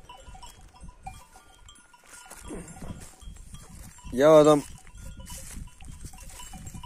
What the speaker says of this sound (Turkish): Benim koyun içinde bu kuyruksuz kırması olan koyunlar var.